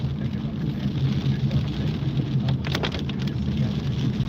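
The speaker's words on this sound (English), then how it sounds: "Still just some light rain right now." Light rain falls during a drive through Tampa, Florida as Hurricane Milton arrives, a steady close hiss of drops on the car with a low engine hum beneath.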